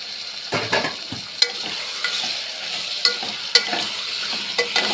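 Chicken curry sizzles steadily in a pan while a spoon stirs it in repeated scraping strokes with sharp clicks against the metal, close and fairly loud throughout, with no voices.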